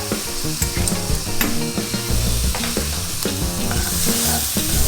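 Garlic and fresh ginger stir-fry in a little oil for vegetarian noodles, giving a steady close sizzle with light stirring, with music playing underneath throughout.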